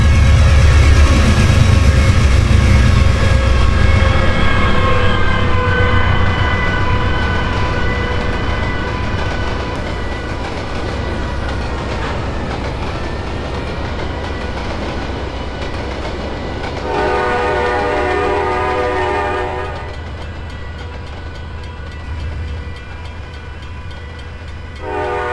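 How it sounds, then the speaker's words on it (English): An Amtrak Blue Streak passenger train passes a feed mill on the Norfolk Southern line: a loud, sustained horn chord, a heavy rolling rumble of wheels that fades, then a second horn blast near the end. "In a classic nickel plate road scene, Amtrak's Blue Streak passes the feed mill"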